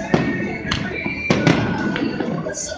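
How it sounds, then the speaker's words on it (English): Independence Day fireworks in uptown Charlotte, North Carolina, for July 4th, 2018, bursting in a series of sharp, fairly loud booms and cracks over a steady crowd murmur, with several separate explosions spaced across the moment. "That's a long fireworks."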